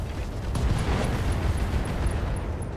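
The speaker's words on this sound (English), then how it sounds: "Firing everything I've got." Mech weapons in the RogueTech video game fire and explode together in a dense, roaring rumble of blasts, loud and sustained with no break.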